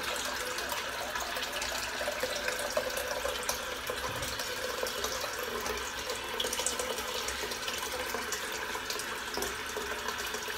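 Cold water runs steadily from a tap into a sink during a head shave, a continuous, fairly quiet rushing stream with no talking.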